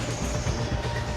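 A metro train in Lille rumbles steadily and loudly at close range, a continuous rolling roar with no talk over it.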